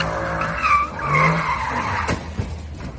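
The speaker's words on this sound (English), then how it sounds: "The Mercedes driver was showing off and then he crashes into a tree." A Mercedes car skids with squealing tires and strikes a tree; the loud tire screech fills most of the stretch, and a sharp broadband impact lands near the end, with no talking.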